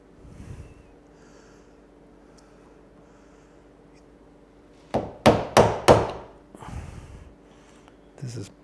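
A 3/4 inch wood chisel cutting toward a marking-gauge line, struck in a quick run of four sharp, close knocks, then a softer blow and a last hit, with quiet breathing between.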